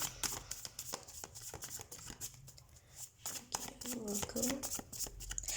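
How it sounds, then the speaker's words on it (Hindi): Tarot cards are shuffled by hand in quick papery riffles and flicks, close and fairly soft, while someone speaks Hindi over the rustling. "तो सबसे पहले हम कार्ड शफल कर लेते हैं आपके लिए"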